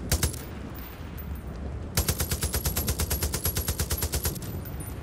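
Rapid automatic gunfire in the Far Cry video game, a few shots at first, then a sustained rhythmic burst of close, loud rounds lasting several seconds.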